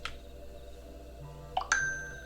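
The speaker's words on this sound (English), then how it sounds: "Oh my god, phone." A short bright notification ding chimes near the end, after a brief softer blip, sounding over a steady low background hum during Final Fantasy XIV gameplay.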